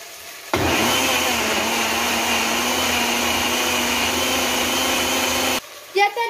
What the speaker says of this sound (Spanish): Vamos a moler.